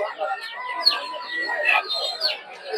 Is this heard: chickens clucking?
yes